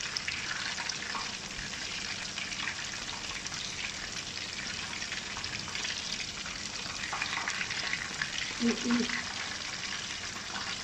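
Spicy coated chicken pieces frying in oil over low heat give a steady, soft crackling sizzle throughout, with a brief small clink near the end.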